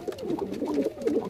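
Pigeons coo and scuffle in a crowded loft as several birds fight, a steady, close run of throaty burbling calls with no speech.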